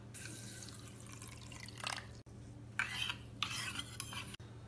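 Water poured from a half-cup measure into a bowl of black poppy seeds, heard as a few short splashing bursts over a steady background hum, fairly close.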